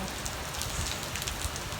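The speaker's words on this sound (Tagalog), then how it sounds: "Ulan pala." Steady rain falls outdoors with no shelter nearby, a dense hiss of drops hitting surfaces, soft and even from start to finish.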